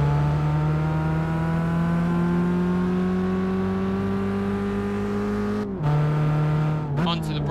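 Race car in Gran Turismo 5 holding a loud, steady engine note on track, then dropping in pitch as it brakes hard with a brief cut and stutter near the end.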